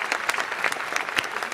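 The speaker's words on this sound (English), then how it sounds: "how about another round of applause for Tammy" Brief burst of audience applause at an evening charity gala, many hands clapping together in a short, steady patter with no talk over it.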